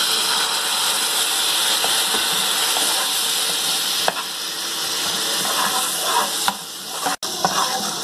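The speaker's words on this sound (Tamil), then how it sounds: "லைட்டாக கொஞ்சோண்டு தண்ணி விட்டுக்கோங்க." Garlic podi masala, a spice powder with chili, sizzles in a pan on a simmer after a little water is added. The steady hiss and frying crackle run continuously and loud, with a few sharp clicks and pops.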